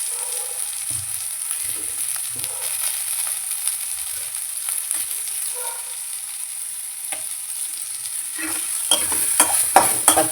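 Onions and ground paste are sautéed in a pan for a cluster bean poriyal, with a light sizzle and repeated spatula scrapes and stirs that grow busier and louder toward the end.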